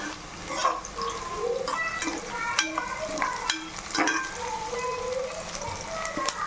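Onions sauté in a pan for chicken gravy as a spoon stirs them, giving soft, steady sizzling with irregular scraping and stirring clicks, moderately close and with no talking.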